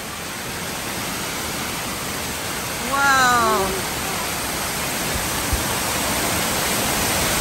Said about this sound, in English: Caleb, we're in the waterfall!